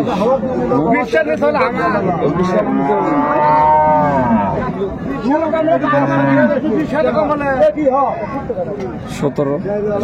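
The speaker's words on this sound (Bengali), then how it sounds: "গাভী বাছুর আমরা দেখছিলাম।" Holstein Friesian cows and calves moo loudly and repeatedly at a busy rural cattle market in Raniganj, Dinajpur, with long drawn-out calls close by over a steady murmur of crowd chatter.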